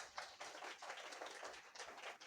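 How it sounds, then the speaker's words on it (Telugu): A crowd at a church revival claps hands, a fast, steady patter of many claps continuing for a couple of seconds at fairly low volume, with no talking over it. "గట్టిగా చప్పట్లు కొట్టు."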